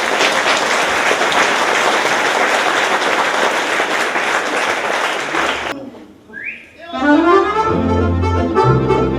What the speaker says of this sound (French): mesdames et messieurs, je vous demande de l'applaudir très fort